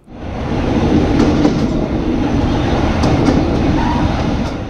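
A passenger train on the Benha to Mit Ghamr line in Egypt rumbles along, heard from inside with a continuous loud roar and faint rhythmic rail clicks, no talking.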